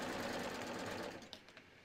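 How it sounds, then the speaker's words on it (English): A serger sewing machine runs steadily, close and moderately loud, stitching a seam on a tee, then slows to a few lighter taps as the run ends. No talking. "And I'm just lining those up and serging it."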